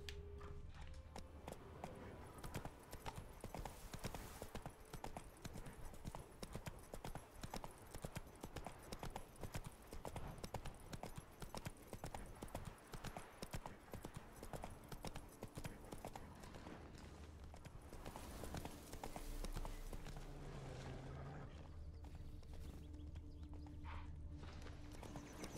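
Roach, Geralt's horse in the video game The Witcher 3, trots along with a steady, even clip-clop of hoofbeats that continues throughout, close and fairly faint.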